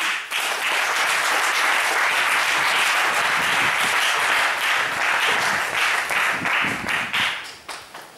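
A church congregation applauds loudly to acclaim God, producing dense, sustained clapping that fills the space before thinning out and fading near the end.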